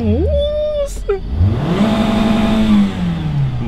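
A car engine revs hard against the rev limiter, rising then holding a steady high pitch that cuts and shudders, loud and close inside the cabin, with people talking over it.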